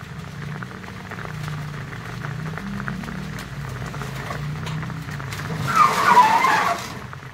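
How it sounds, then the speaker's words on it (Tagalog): Steady heavy rain hissing and drumming outdoors near a chicken coop, building to a louder, denser rush near the end, with a low rumble underneath. "lumakas na ulan talaga"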